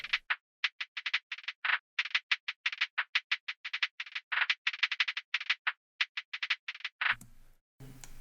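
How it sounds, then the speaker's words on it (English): A chopped-up basic hi-hat loop plays as a beat, crisp rapid ticks in uneven bursts with short gaps, loud and dry, ending in a brief noisy glitch. "there's just this sort of basic hi-hat loop that I chopped up a little bit"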